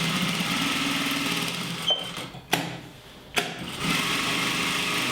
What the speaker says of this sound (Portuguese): Então eu vou costurar aqui.